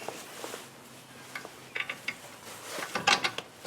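Clunks and clicks from the brake rotor of a 2017 GMC Acadia as it is turned back and forth by hand, a series of soft knocks building to a cluster of sharper metallic clicks near the end.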